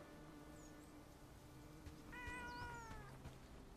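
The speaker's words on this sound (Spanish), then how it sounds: "¡Ay, un gato!" A cat in the video game Bellwright gives a couple of faint, drawn-out meows, one short and high, then a longer wavering call, over a low steady background ambience.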